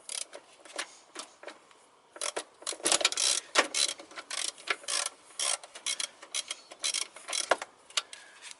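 Ratchet socket wrench clicking steadily as it turns a bolt on a Toyota Corolla VVT-i engine during an idle speed repair, a close, brisk run of dense mechanical ticks in short bursts with no talk.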